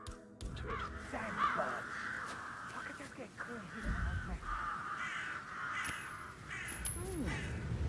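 Birds caw in the video game Hitman 3, harsh crow calls repeating at a moderate distance under a voice talking, with game ambience behind.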